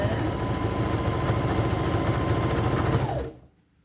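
A sewing machine runs steadily in a continuous mechanical whir while back-stitching fabric for a fish body, then stops abruptly near the end, leaving quiet.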